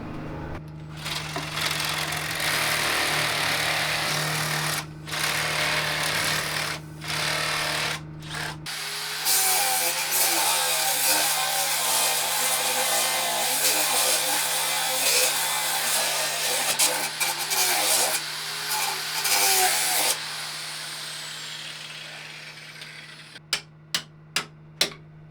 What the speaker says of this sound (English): We're gonna use some different tools now to get these last two bolts out, and I'm looking for the saw blades.